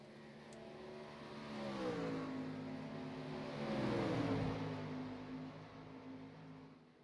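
Race trucks at Watkins Glen, a faint engine drone building into a revving pass that rises and fades, with no one talking.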